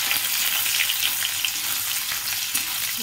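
Crushed garlic frying in a pan gives a steady, close sizzle with light crackle throughout and no talking.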